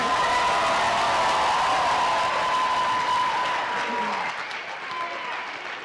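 An audience applauds a dance performer at a faculty dance show, with loud, sustained clapping and a few cheers that taper off gradually toward the end.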